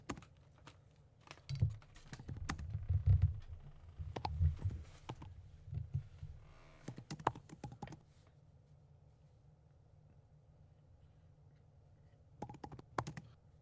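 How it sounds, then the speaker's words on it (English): Computer keyboard typing close to a microphone during a group call, a dense run of loud, irregular clicks for about eight seconds, then a lull with faint background hum and another short burst near the end. "Someone's keyboard is too close to the microphone."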